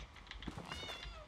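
A cat gives a short, faint meow in the fantasy video game Elder Scrolls Online, a brief rising-and-falling cry over soft game ambience.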